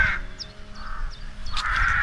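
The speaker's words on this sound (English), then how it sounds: "despite these very noisy crows" Noisy crows cawing repeatedly in a peaceful outdoor spot, harsh calls in bursts at the start and end with a quieter gap between, over a low ambient rumble.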